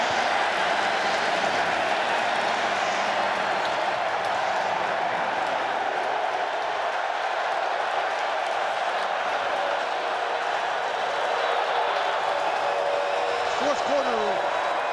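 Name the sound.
deafening stadium crowd noise at football game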